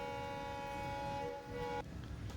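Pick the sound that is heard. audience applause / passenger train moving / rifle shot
passenger train moving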